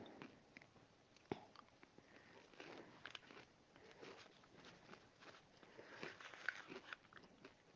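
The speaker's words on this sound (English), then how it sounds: "Sorry, do you hear me chewing?" Quiet, close chewing and crunching from a person eating food, soft irregular bites with small clicks and rustles in a calm room.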